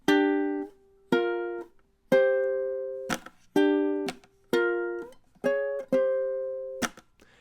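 Ukulele plays a riff at steady tempo, about nine crisp plucked notes spread over several seconds with held notes ringing out between attacks, clear and close with no voices.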